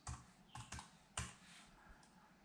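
Keys clatter on an iClever BK10 multi-device keyboard: four or five distinct, fairly close taps spread unevenly over a couple of seconds, with quieter key noise trailing after.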